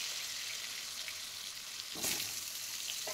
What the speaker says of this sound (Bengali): এবার ফোড়ন দিয়ে দেবো, 5 ফোড়ন।